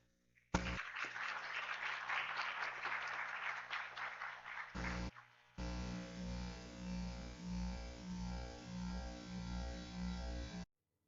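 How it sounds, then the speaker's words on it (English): Audience applause at an international academic conference, welcoming a speaker to the stage; a burst of dense clapping that fades, briefly pauses, then gives way to a steady electronic hum until it cuts off. "Please, if we can have another set of applause to welcome her to the stage."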